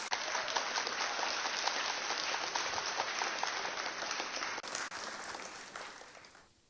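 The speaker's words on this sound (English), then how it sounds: "for the biggest applause of the afternoon, let us welcome the former Chief of Defense Staff, General Lucky Irabor" An audience at a Delta State security trust fund event applauds to welcome a former Chief of Defense Staff, producing a sustained, moderately loud wash of clapping that thins and fades toward the end.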